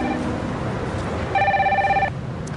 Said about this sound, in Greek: Τηλέφωνο σου.